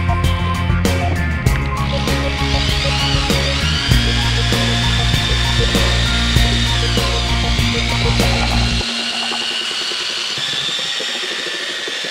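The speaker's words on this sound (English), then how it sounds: "You always want to go to slow to medium speed, mix for about 3 to 5 minutes so we don't put any air into the epoxy" A power mixer churns two-part epoxy and hardener in a half-gallon pot for a concrete floor coating, a loud, steady whirring drone with scraping and rattling that holds for about nine seconds, then drops to a quieter hum.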